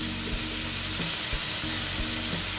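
Dry chili powder hits hot oil in a pan for a Bengali pabda fish curry, giving a close, steady crackling sizzle with a few soft stirring knocks and no speech.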